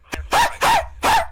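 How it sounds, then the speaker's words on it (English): Talking Ben, the cartoon dog from a mobile game, gives three quick, loud, close barks in a row. "My dumbass dog"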